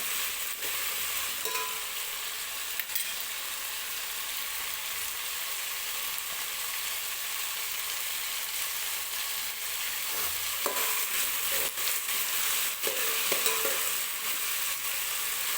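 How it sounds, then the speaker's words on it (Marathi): Mixed vegetables with eggplant sauté in a pan for a veg pulao, giving a steady, even sizzle with occasional soft stirring scrapes and clicks, close and continuous without talk. "सगळ्या भाज्या व्यवस्थित परतून घेते मी, तुम्ही बघू शकताय"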